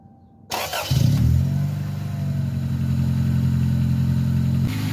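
A car engine, just repaired for an exhaust leak with QuickSteel epoxy, cranks and catches after a brief quiet moment, then settles into a steady, loud, rumbling idle that holds to the end.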